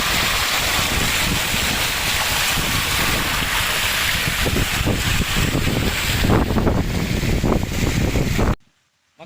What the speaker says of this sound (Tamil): காற்று அடிச்சுக்கிட்டு இருக்குங்க.